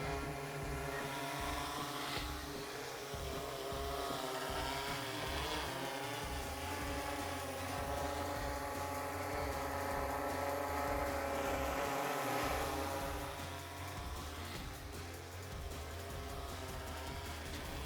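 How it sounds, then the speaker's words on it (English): DJI drone, compared with Inspire 3 and Mini 3 Pro models, flying nearby with a steady buzzing motor whine whose pitch rises and falls as it moves, constant and unbroken for the whole stretch. "It's not small, but it's a very capable drone."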